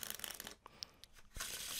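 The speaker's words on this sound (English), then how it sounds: "I'll just shuffle it up, make it nice and random." A deck of playing cards is shuffled up close and softly, with dense riffling bursts at the start and end and a few light taps and flicks in the quieter middle.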